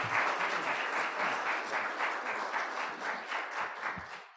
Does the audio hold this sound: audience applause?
yes